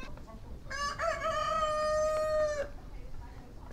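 Rooster crowing in a village, one loud close cock-a-doodle-doo lasting about two seconds, with faint ambient noise around it.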